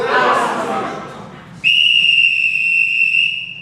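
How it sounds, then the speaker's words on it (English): After a moment of muffled background noise, a single sharp, shrill whistle blast cuts in and holds steadily for about two seconds, loud and close. "I think I have a whistle in here"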